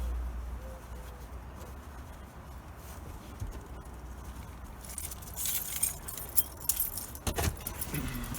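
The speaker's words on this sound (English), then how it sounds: "I got pockets on my pants for nuts and bolts. I'm gonna stuff my pockets." Metal nuts and bolts jangle and clink as they are stuffed into pants pockets at a pick-your-part junkyard, with rustling clatter building in the latter half over a low outdoor rumble.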